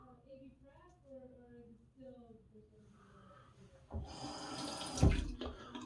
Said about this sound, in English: I'm gonna rinse up here